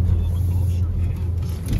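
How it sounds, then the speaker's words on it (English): A Humvee's turbocharged engine pulls hard under acceleration, a steady loud low rumble close by with a voice talking over it. "Yeah, that turbo pulls, bro."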